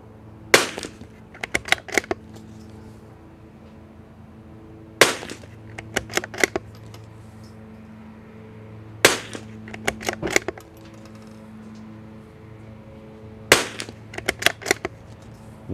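Rifle shots ring out at a shooting range, with CZ and other rimfire and precision rifles among those fired. Four bursts of several sharp, cracking reports each are spaced a few seconds apart, loud and close, with quiet gaps between them and no talk.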